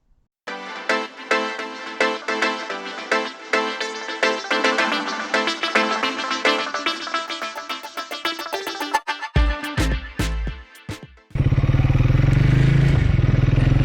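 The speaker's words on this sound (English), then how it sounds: "today we're going to be taking the Triumph Speed 400 for a bit of a ride" A Triumph Speed 400 motorcycle starts and idles with a rapid, close single-cylinder thumping and clatter, and then a louder, steadier rush of riding noise takes over near the end.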